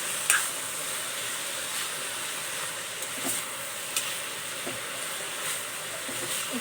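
Leafy greens frying in a pan give a soft, steady sizzle with occasional light stirring clicks, fairly quiet and close, without speech.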